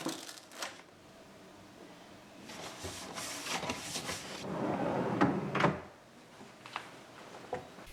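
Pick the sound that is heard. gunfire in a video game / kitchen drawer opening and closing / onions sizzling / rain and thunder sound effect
kitchen drawer opening and closing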